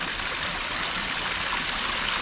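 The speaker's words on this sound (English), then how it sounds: "I'm gonna go feel the waterfall for a second." Water from a small waterfall along a nature trail at Jones Valley rushes in a steady, close, broadband hiss with no other sounds.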